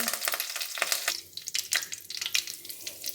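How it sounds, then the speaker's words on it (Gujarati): Cumin, cloves, cinnamon, chili and curry leaves sizzle and crackle in hot oil and ghee for a rice dish, a steady close frying hiss with sharp popping bursts, no voices. "તેલ ગરમ થઈ ગયું છે તો એડ કરી દઈશું જીરું, 2 લવિંગ, તજ, મરચું, મીઠા લીમડાના પાન"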